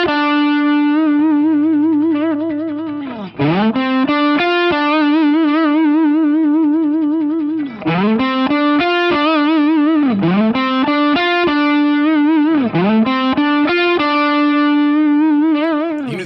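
Sustained distorted electric guitar notes, each held steady for a moment before a wide, even vibrato kicks in, with swooping bends between phrases, loud and up close.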